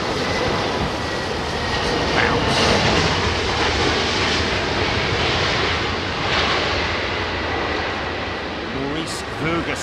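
An airliner at London Heathrow Airport on a windy day roars steadily in a broad, dense rumble, with occasional gusts and faint distant sounds over it.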